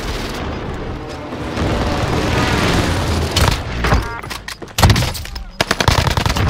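Rapid bursts of video-game gunfire with sniper rifle shots, loud and close, first sustained and then breaking into sharp separate cracks, with a faint voice underneath.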